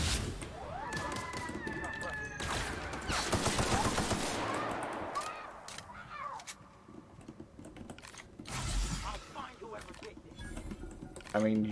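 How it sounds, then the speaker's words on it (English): Bursts of rapid automatic gunfire in the video game Outer Worlds, rattling loudly up close over a continuous game soundscape, with muffled background noise and brief quieter stretches between volleys. "you had to have heard those gunshots just now"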